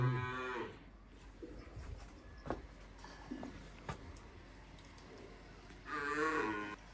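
Domestic buffalo on a rural Punjabi farm gives two loud, drawn-out moos close by, one at the start and one near the end, with quieter farmyard noise in between.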